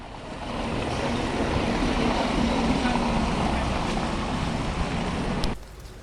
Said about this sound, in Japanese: 強い雨が降っています。